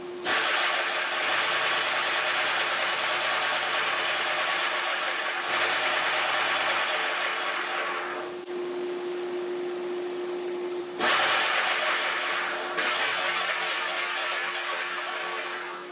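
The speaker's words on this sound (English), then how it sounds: "I'm just going to turn that dust collector on." A dust collector runs in a guitar repair shop while a Taylor 314 is being sanded, giving a loud, steady broadband roar with a constant hum that dips briefly and then resumes.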